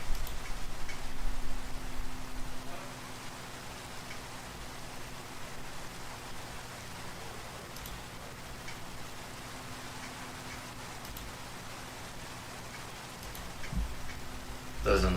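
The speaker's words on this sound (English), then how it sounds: "Is there a frame that stops the rain?" Steady rain in the Reclamation video game patters as a continuous hiss of drops, fairly loud at first then settling, with a person talking intermittently over it.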